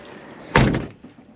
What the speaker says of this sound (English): That door closed solid.